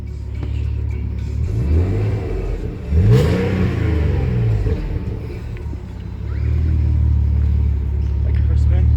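Alfa Romeo 156 3.0 with a sports performance exhaust revving, loud rising and falling engine sweeps close by, a sharp blip in the middle and a steady rumbling idle between revs.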